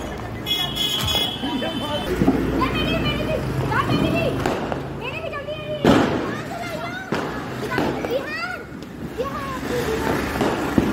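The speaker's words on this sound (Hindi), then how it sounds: "ये देखो लट्टू, दिस इज द लट्टू बम" A Diwali lattu bomb spinning firecracker fizzes and crackles outdoors at a family celebration, with sharp pops and whistling bursts amid busy background noise, children and adults chattering throughout.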